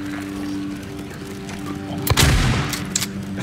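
Gunfire from the Silent Hill 2 Remake on PS5 cracks out as a sudden loud burst of shots about two seconds in, over a low droning game ambience.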